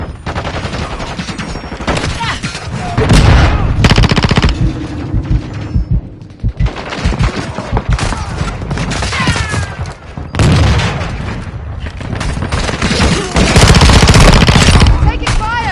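Heavy gunfire and booming explosions fill an online multiplayer match of Call of Duty Modern Warfare 2 on PS5, with loud automatic bursts and thuds coming in waves, and brief in-game voice callouts mixed in.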